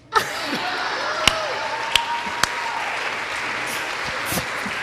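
Pageant audience at a dairy festival applauds, a steady sustained patter with a few sharp louder claps and a whistle-like tone rising above the crowd, lasting the whole stretch without speech.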